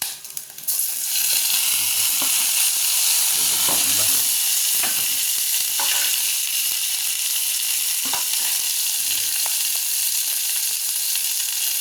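Onions with their leaves, from Ilocos, are sautéed in a hot pan for ginisang monggo with pork, green chilli and spinach, producing a loud, steady close sizzle with a few stirring scrapes and no talking.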